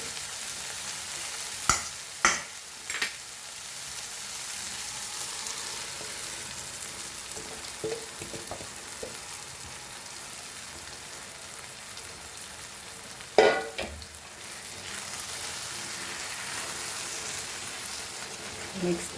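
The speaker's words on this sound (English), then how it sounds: "Mix this nicely till it dries completely." Goan shark fish egg bhurji with tomatoes, onion and egg sizzles steadily in a pan as it is stirred, with a few sharp spatula scrapes and clatters rising above the constant close frying hiss.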